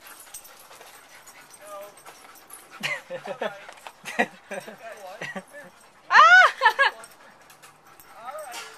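Dogs on vacation whimper and whine while playing fetch by the water, including a sharp high-pitched burst of eager cries near the end, mixed with a person's voice talking to them.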